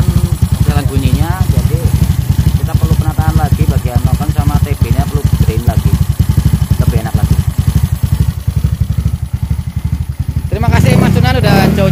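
Honda Vario 172cc scooter engine running up close with a rapid, even ticking clatter from the camshaft, loud and steady, briefly revved near the end while people talk over it.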